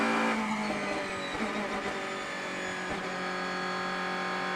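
Onboard a DTM race car at Zandvoort, the engine drones loud and steady throughout with a buzzy high-revving tone, no talk over it.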